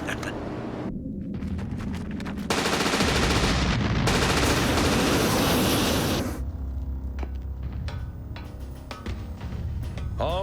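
Gunfire erupts in the Blake and Mortimer video game: scattered shots build into a dense, loud machine-gun barrage lasting several seconds, then trail off into sporadic cracks and bursts, with no voices.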